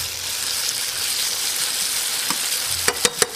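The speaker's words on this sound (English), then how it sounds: "Now we're gonna saute these here with the potato we have in the frying pan." Vegetables and potato sautéing in a frying pan for a gluten-free Greek moussaka, giving a steady, close, loud sizzle with a few sharp clicks and scrapes of stirring near the end and no voices.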